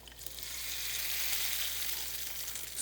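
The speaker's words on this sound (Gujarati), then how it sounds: "હું આ રીતે વઘાર આમાં વેડી દઈશ" Tempering of mustard seeds, sesame and curry leaves sizzles steadily in hot oil, a dense close hiss that swells slightly and holds without pause.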